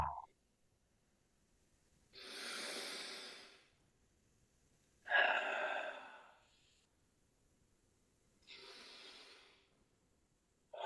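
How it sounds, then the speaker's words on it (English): Deep breaths taken during a brass breathing exercise: three long, airy breaths spaced several seconds apart, close and alone, each swelling then fading. "And another couple of breaths."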